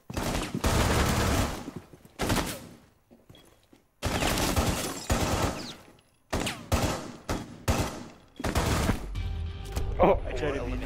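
Gunfire from a shooter video game: loud bursts of rapid shots and single cracks in several clusters with short gaps, some sounding like automatic fire, and a voice talking between them.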